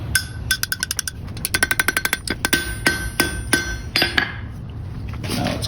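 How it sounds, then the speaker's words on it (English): Hot iron handle being hammered over the horn of an anvil in a blacksmith shop at Sutter's Fort: a run of sharp, ringing metallic strikes in quick irregular rhythm, loud and close, with bright clanging overtones and no talk. "curl our handle over the horn on the anvil"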